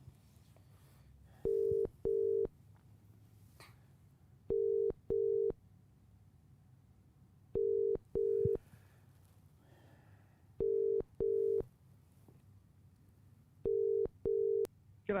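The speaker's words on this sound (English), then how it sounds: "Alan, answer the phone, Alan." Telephone ringback heard while calling someone: paired ring tones repeat five times, roughly every three seconds, clear and evenly spaced over faint line hiss, with no voices.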